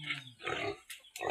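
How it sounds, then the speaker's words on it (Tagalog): A black pig grunts close by in a short burst of three or four rough, snorting grunts, loud against a quiet background. "Oh, muni ang baboy nila dani"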